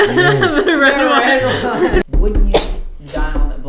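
A single sharp sneeze breaks into casual conversation and laughter between podcast hosts, loud and close, with talk on either side.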